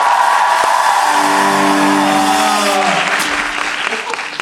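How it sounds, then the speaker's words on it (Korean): Concert audience at a band performance applauding, a loud dense wash of clapping with sustained tones and some voices over it, gradually easing off toward the end. "박수 주세요."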